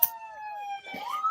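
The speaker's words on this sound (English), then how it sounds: "he turns on the fucking sirens full blast." Police siren at full blast, a loud wailing tone that slides down and then climbs again, with a brief noisy burst at the start and another in the middle.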